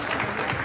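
An audience at a touring event in Atakpamé breaks into dense, steady applause, a brief wash of many hands clapping together.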